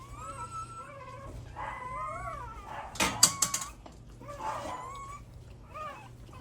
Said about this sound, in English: You making some cute little puppies, Gracie Butt.